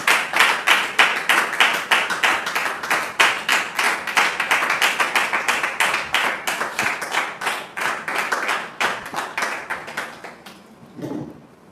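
An audience claps in rhythmic unison to welcome a guest, loud and close, with regular beats that hold steady before slowing and fading out near the end.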